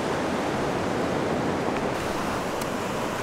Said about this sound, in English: Oh, hello, ocean.